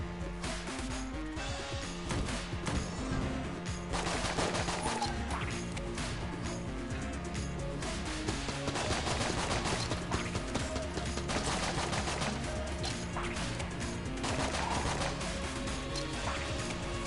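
Dense, continuous gunfire from Enter the Gungeon, a video game, with rapid overlapping shots and impacts crashing steadily throughout, loud and busy with no gaps.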